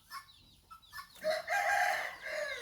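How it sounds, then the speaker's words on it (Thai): Chickens and a rooster on a farm at dawn, with a rooster crowing loudly and long in the second half after a few scattered clucks and calls, close by. "เป็ดไก่ก็เริ่มตื่นเลยเนาะ"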